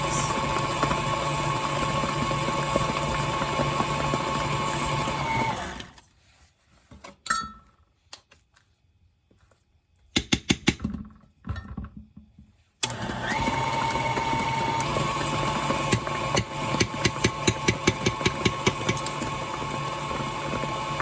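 Electric stand mixer beating cheesecake batter, a steady loud motor whir that stops briefly mid-way with a few scraping knocks, then resumes running continuously.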